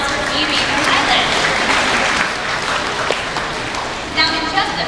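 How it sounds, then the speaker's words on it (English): Audience applause at a Shedd Aquarium show in downtown Chicago, a sustained round of clapping from a seated crowd over about five seconds, fading slightly near the end with a brief voice or cheer at the close. "let's have one more big round of applause for Phoebe from Thailand"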